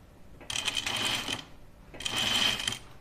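A sewing machine stitches five-eighths-inch seams on a Colette Myrna dress in two steady bursts of rapid whirring, each about a second long, separated by a short pause.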